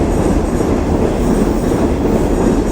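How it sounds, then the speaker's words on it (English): Train rumbling along elevated railway tracks above a street in Palermo, Buenos Aires, a loud, steady roar with dense rattling and clatter that stays constant throughout, close overhead, no voices. "Looks like there's a train up there."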